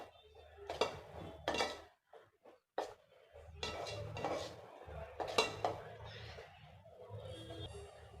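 A spoon stirs fish curry masala in a metal pot, with clanks and scrapes against the sides in uneven bursts and a faint sizzle beneath, close and clear, with brief pauses between strokes.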